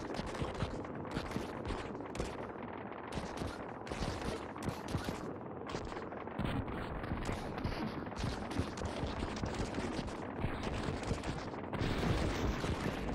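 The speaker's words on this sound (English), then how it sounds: "there's a big explosion" Dense, continuous barrage of booming blasts and rapid gunfire from the arcade base-defense game Utopia Must Fall, loud and relentless with no pauses, as nukes and asteroid impacts pile up.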